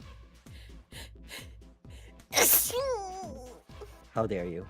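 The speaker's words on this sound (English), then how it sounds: "I'm gonna sneeze." A person sneezes loudly once at close range, with speech before and after it.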